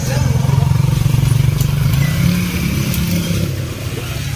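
A nearby motorcycle engine runs with a steady mid-low throb and a slight rev as the bike pulls away, its sound easing off toward the end while voices talk over it.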